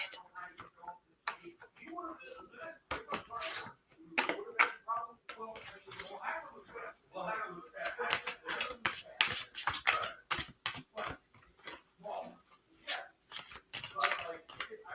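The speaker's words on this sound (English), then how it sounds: "They feel really good to shuffle too." Tarot cards are shuffled in quick papery riffles and flicks, repeated bursts close by, with a voice talking softly in between.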